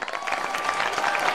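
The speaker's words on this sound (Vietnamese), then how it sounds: "một tràng pháo tay nữa dành cho Phượng Hồng" Studio audience applauding a contestant on a televised singing competition, a dense, steady clapping that holds close and loud throughout the short stretch with no talk over it.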